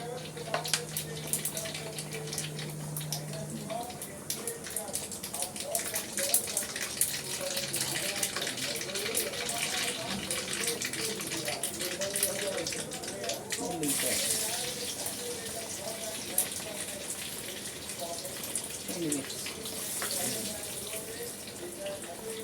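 Mustard seeds and cumin crackle in hot oil while a sambar tempering is being made. A steady, close hiss of sizzling runs throughout, with a voice talking over it.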